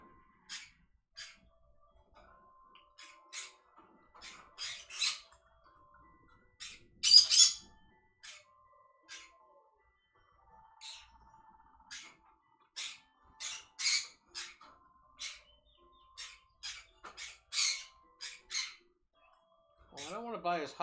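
Clyde, a pet bird, giving short sharp squawks and chirps in scattered bursts across a quiet room, close and moderately loud, ending with a brief human vocal sound.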